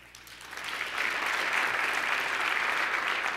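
Audience applause at the mayor of New York's 2014 State of the City address, a broad steady wash of clapping that swells within the first second and holds loud and even to the end, with no talk over it.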